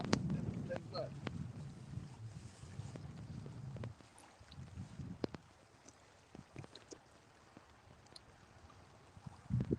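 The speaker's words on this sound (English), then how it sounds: "comes that wind again" Wind gusts buffet the microphone on a boat on the Mississippi River during fishing, rumbling in low bursts that come and go, with light knocks and clatter between them.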